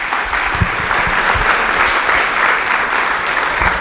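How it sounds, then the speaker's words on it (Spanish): A church audience at an evening talk applauds steadily and fairly loudly throughout, a dense wash of clapping with a few sharper claps standing out. "vamos a darle un aplauso"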